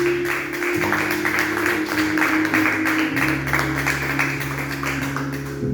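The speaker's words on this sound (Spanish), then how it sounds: "No ofrenda de palmas para el que vive" Congregation at a Christian Sunday church service claps together, a steady dense patter of many hands under a sustained low organ or keyboard drone, close and continuous throughout.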